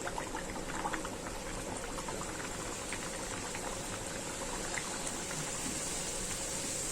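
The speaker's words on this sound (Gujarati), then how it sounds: "તો આપણે પૂરીનો તેલમાં ડુબાડી દઈએ એટલે મસ્ત ફૂલીને દડા જેવી થઈ જાય" A puri sizzles steadily as it is dunked into hot oil for deep frying, a dense, continuous bubbling hiss that stays close and fairly loud throughout, with no voices over it.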